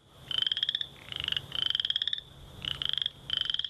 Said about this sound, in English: the call of the male chorus frog sounds a bit like when you ripple the teeth of a comb